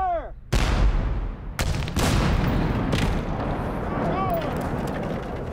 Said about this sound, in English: I'm gonna shoot both cannons head-to-head.